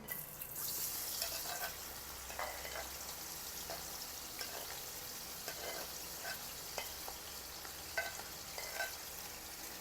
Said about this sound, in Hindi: तो यहाँ पे प्याज जो है ना इनको हम कर लेते हैं फ्राई अच्छे से ना